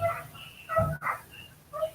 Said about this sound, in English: You can hear a dog outside.